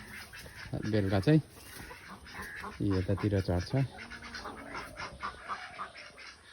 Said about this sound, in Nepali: यो प्योर देशी हो लोकल कुखुरा